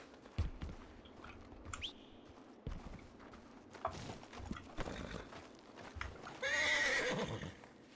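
Horse in the RedM western roleplay game neighing loudly near the end, after scattered hoof clops and footsteps, with faint birdsong in the background.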